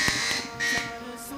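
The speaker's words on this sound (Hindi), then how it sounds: "मैंने कहा ये बजर ही कहीं निकालना दे पूरा" A quiz show buzzer sounds during a Ramzan special TV quiz, giving short loud electronic bursts with voices partly audible around them.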